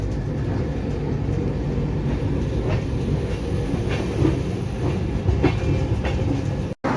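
The 12881 Garib Rath Express rolls into Puri station with a steady rumble of wheels on rail and occasional clacks and squeals, loud and close with no talk.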